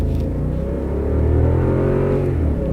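Armored Lexus LX 570 accelerating hard from inside the cabin, a loud low engine roar rising steadily in pitch as it revs, continuous and close with no talking.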